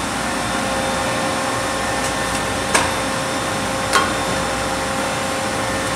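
A Duplo Quadrimax perfect binder making books runs with a steady, loud mechanical whir and hiss throughout, broken by two brief sharp clacks partway through.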